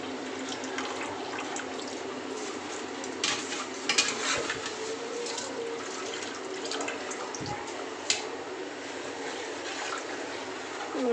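Rice poured into a pot of boiled meat and water, heard as a close, continuous watery rush and splash with a few clinks of the pot.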